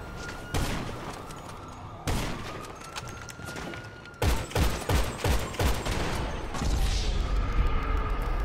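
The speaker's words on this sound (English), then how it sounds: "So we take turns sniping at each other for a bit" Sniper gunfire in the video game GTA Online: single sharp cracks spaced a couple of seconds apart, then a rapid run of closer shots and a rumbling tail, loud and free of talk.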